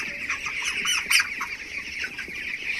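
Seventeen-day-old chickens on a small home farm make a stream of faint, high, overlapping peeping chirps at close range, with one sharper call midway.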